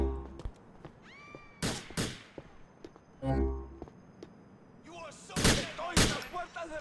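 Gunfire in GTA IV: several loud, sharp gunshots ring out at irregular intervals, with a few quieter clicks and vocal sounds between them.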